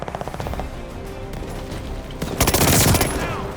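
An LMG machine gun firing in the Call of Duty Vanguard video game on the Fortress map: rapid bursts of automatic gunfire, louder and denser toward the end, with a voice briefly heard.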